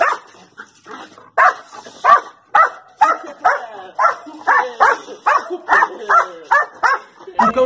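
A guard dog barks repeatedly in a fast, steady rhythm, loud and close, with short gaps between each bark.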